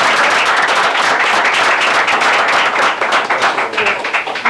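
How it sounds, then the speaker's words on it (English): Audience at the Fanwood council meeting breaking into loud, close applause, a dense continuous clatter of many hands that loosens into more distinct individual claps toward the end. "Let's give them another round of applause,"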